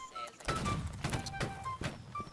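Ragged musket volley in the HoldFast: Nations At War battle game, several sharp bangs spaced unevenly over a couple of seconds, moderately loud with a faint battlefield backdrop.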